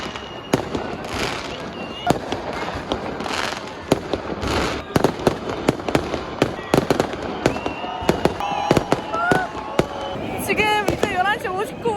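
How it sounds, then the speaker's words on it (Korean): New Year fireworks in Germany: rapid, continuous bursts and sharp cracks of small firecrackers, mostly distant to mid-range, with a few whistling rockets near the end and voices faintly present in the background. "연속적으로 불꽃이 계속 터지고 있어요"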